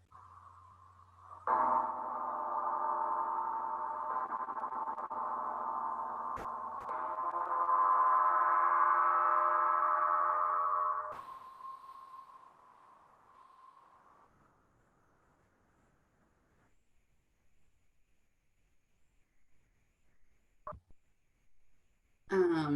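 A homemade gong is struck and rings out with a rich, layered hum that swells, then slowly fades into a long, quiet resonance.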